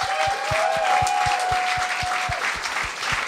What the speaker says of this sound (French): Une bonne main d'applaudissements pour Jason Babin qui va monter sur scène